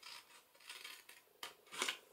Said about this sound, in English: So once again, cut this piece out.